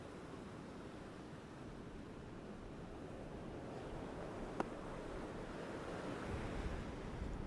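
Surf washes onto a beach during a fishing outing, a steady, soft roar of breaking waves with light wind noise and no talking.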